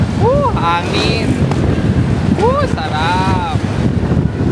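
Wind buffeting the microphone during a boat ride, a constant heavy rumble and rush under which people talk and call out.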